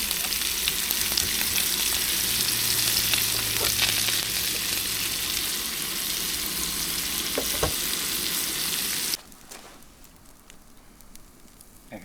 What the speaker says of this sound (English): I hear sizzling.